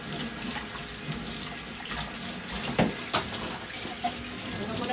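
Kitchen tap running while vegetables and dishes are washed during lunchbox cooking, a steady close stream of water with a few small clinks and splashes.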